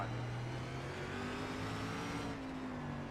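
Race car engine revving hard under throttle in a racing video game, a loud steady roar with rising engine tones during a short-track SRX Series race, continuous and close, with no talk.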